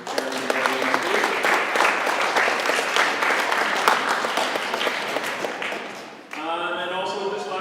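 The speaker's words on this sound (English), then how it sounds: "Big applause, athletes, to your parents and guardians." Sustained audience applause at a school basketball awards event, dense clapping filling the room for about six seconds before fading, followed by a speaker's voice.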